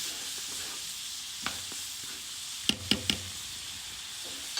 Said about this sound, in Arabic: نعفه يغلي فد 5 دقايق